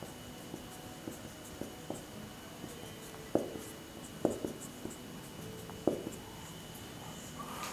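A pen or marker taps and scratches across a board or paper in quick short strokes while a chemistry reaction step for alcohol dehydration is written out, with a few firmer taps standing out.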